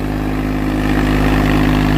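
A Swaraj 744 tractor engine runs close up at a steady, even throb, a loud continuous diesel drone with a strong low hum that holds constant throughout, with no voices.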